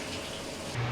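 A Kenmore Whirlpool direct-drive washing machine fills with water, a steady broadband rushing gush with a low hum rising slightly at the end, no talk.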